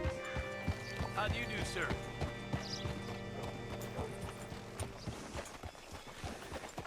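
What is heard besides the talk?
horse hooves clip-clopping in Red Dead Redemption II video game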